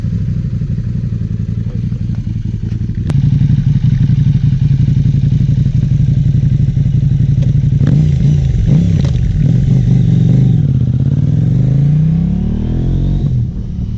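A KTM 790 Adventure R with a Wings slip-on exhaust and the dB killer removed idles with a deep lumpy throb, then is blipped through several sharp throttle revs that rise and fall, loud and close.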